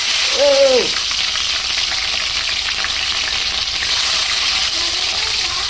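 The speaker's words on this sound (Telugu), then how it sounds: "నూనె కాగింది అనుకుంటా పచ్చిమిరపకాయలు వేద్దాం" Green chillies sizzle steadily in hot oil, a dense continuous frying hiss that fills the whole stretch, loud and close, with a brief tonal squeak near the start and no talk over it.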